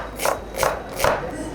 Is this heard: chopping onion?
yes